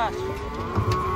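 A single low moo from a horned bull unloaded from a truck at a livestock market fades out, with background murmur and faint voices around it.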